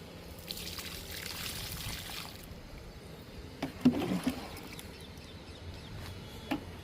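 Liquid fertilizer is poured onto potted hibiscus plants outdoors, giving a faint, soft trickle and splash with a few small knocks.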